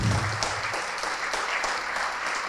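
Steady, dense applause from a church congregation during a service, continuous clapping that fills the whole stretch with no pauses, heard alone without speech.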